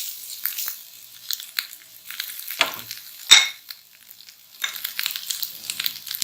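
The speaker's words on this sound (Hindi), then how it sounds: "बस गाजर को हमने ज़्यादा फ्राई नहीं करना, तो इसका कलर चेंज हो जाए बहुत ज़्यादा।" Carrots frying in a pan for rainbow pasta, a soft close sizzle with intermittent stirring scrapes and one sharper clatter partway through.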